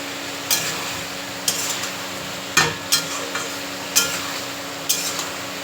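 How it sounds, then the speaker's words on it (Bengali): Soybean chunks are sautéed in a pan with repeated scraping spatula strokes, sharp clanks at irregular intervals over a continuous soft sizzle, close and fairly loud. "এখানে আমি সোয়াবিনটাকে কষাচ্ছি দেখো"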